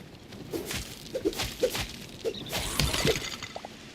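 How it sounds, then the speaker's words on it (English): Glass shattering in the video game Hytale, heard as several short, bright crashes and tinkling breaks over about four seconds, with a few clicks and a soft whoosh. No one talks. "The glass sound."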